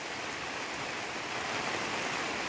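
Rain falls steadily outdoors next to a shepherd's tent, a dense, even hiss that stays at the same level throughout with no voices.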